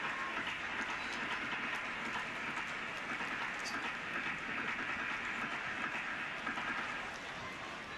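A New York subway train runs steadily near the Yankee Stadium and Shea Stadium lines, a continuous rumbling roar with faint rail clatter and no pauses across the whole stretch.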